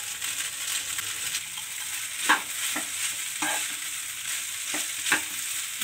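Capsicum is stirred in a pan for vermicelli upma, a soft steady sizzle broken by several quiet, evenly spaced scraping strokes of a spoon, with no voices.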